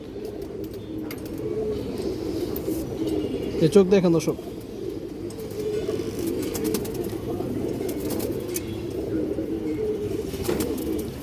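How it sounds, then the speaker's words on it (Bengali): Pigeons coo softly in the background at a pigeon farm while someone talks over them close up. "সুন্দর একটা কবুতর দর্শক"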